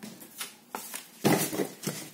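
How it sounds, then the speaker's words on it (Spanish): Tarot cards shuffled vigorously by hand, a quick run of soft papery riffling bursts in an uneven rhythm, close and fairly quiet. "Vamos a barajar nuestras cartas intensamente, como a mí me gusta todo."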